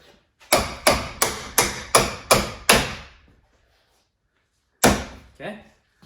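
Hammer blows driving a steel sleeve onto a custom Jeep YJ transmission crossmember, seven sharp metallic strikes in steady rhythm, then a pause and two more, loud and close.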